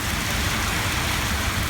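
Sudden rain pours down in New York City in late August, a loud, even, continuous hiss of water striking surfaces, with no voices.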